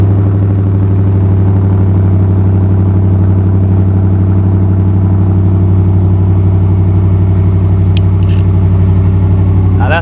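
A 2019 Dodge Ram Rebel fitted with a Carven exhaust rumbles loud and close, its deep throbbing drone holding steady throughout with little change in pitch.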